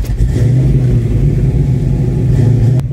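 Fox Body Mustang engine fitted with FlowMaster 50 series mufflers, heard from inside the car: a steady, loud low rumble with a slight throb, continuous throughout and cutting off abruptly at the end.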